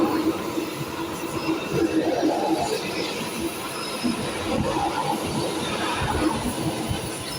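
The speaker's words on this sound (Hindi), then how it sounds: "ये मेट्रो जा रही है, थोड़ा शोर आएगा, इसे जाने देते हैं" A Yellow Line metro train in Gurugram rumbles past close by, a steady loud roar of wheels on rails with faint squeals and clatter throughout.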